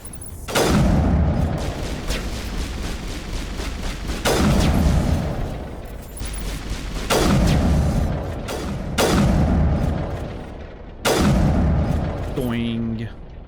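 Loud sniper rifle shots in the video game Mass Effect, five heavy booming cracks spaced roughly two seconds apart, each with a long rumbling tail, with voices talking between them.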